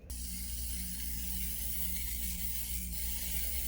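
A can of fluorescent blue spray paint sprays in a steady, close, unbroken hiss that holds at an even loudness from start to finish.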